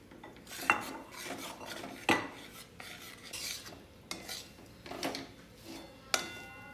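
A spoon stirs almond paste roasting in ghee in a pan, giving several distinct scraping strokes with sharp clinks against the metal, close and fairly quiet with no talking.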